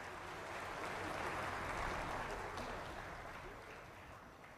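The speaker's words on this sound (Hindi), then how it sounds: "जोरदार तालियों के साथ" Crowd applause fills the air at a live Kushinagar International Airport inauguration event, a broad steady wash of clapping that swells slightly in the middle and eases toward the end, moderately distant and without clear speech over it.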